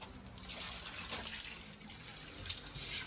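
Water is poured at an outdoor toddy-drinking New Year party, a soft, faint trickle and splash that lasts a few seconds.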